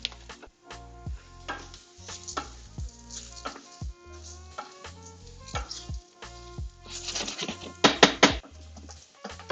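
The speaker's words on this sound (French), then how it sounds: "Là, je nacre le riz dans de l'huile." Rice grains toasting in hot oil in a pan for lemon risotto, a steady soft sizzle broken by scraping stirs and light clinks of the utensil, close up, with no talking.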